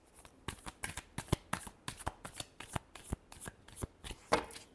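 Tarot cards being shuffled by hand, a rapid run of crisp riffling snaps and flutters repeating about every third of a second, close and clear with no talking.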